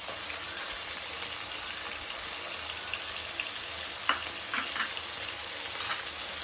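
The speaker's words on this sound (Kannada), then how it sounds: "ಈರುಳ್ಳಿ ಕೆಂಪಗೆ ಫ್ರೈ ಮಾಡಬೇಕು, ಹಾಗಾಗಿ ಟೇಸ್ಟ್ ಚೆನ್ನಾಗಿರುತ್ತೆ." Onions frying until red in hot oil for mint rice, with a ground paste of ginger and garlic added, give a steady loud sizzle and hiss. A few brief clinks and stirring sounds come near the end, with no speech.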